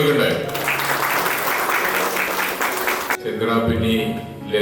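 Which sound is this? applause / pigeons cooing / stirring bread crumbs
applause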